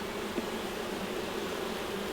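Honey bees hum steadily around an open hive while a beekeeper works the frames, a faint, continuous drone with one brief louder pass near the start and no talking.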